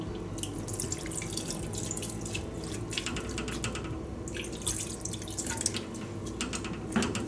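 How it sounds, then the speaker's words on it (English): Water pours and trickles into a pot close by, a soft continuous splashing that lasts several seconds, with no talking. "Then I will be adding a little bit of water."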